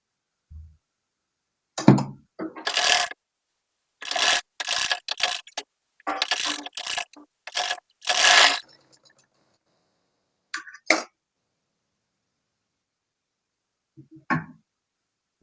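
Fabric being stitched on a sewing machine in short, separate mechanical bursts and thunks, close and fairly loud, spaced irregularly with silent gaps between them.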